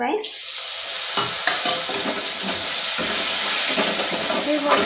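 Masala spices sizzle and fry in hot oil, a loud, steady hiss with occasional stirring scrapes and soft pops, while a voice talks faintly underneath.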